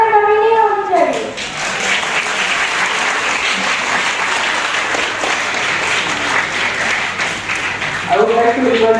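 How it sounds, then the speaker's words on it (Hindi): Audience clapping at an education and welfare society program in Bhopal: a sustained burst of dense applause, with a voice speaking briefly before it starts and again as it ends. "तालियों में कमी नहीं होनी चाहिए।"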